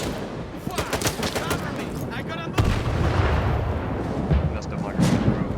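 Gunfire and a grenade blast in the video game Stalker 2: rapid shots crackle through the opening seconds, then a heavy explosive boom hits midway and leaves a dense rumble, with a voice talking over parts of it.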